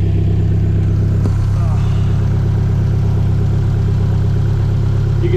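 A car engine with a standalone ECU idles steadily at close range, a loud, even low rumble held throughout, with one brief sharp click partway through.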